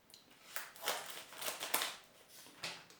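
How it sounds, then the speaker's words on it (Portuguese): Scissors snipping near the microphone, several crisp separate cuts in an irregular rhythm, with no talk. "pegar a tesoura aqui"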